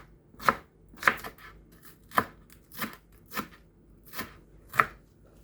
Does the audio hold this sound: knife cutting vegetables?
yes